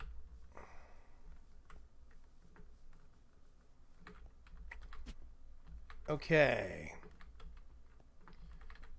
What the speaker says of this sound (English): Loud keyboard is loud.